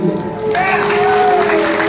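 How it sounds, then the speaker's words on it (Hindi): Audience applause at a night devotional jaagran for Charak Puja in Kenduadih Basti, Jharkhand, swelling from quiet into steady crowd clapping over sustained music and a voice. "इन लोग के लिए ताली नहीं बजाओगे"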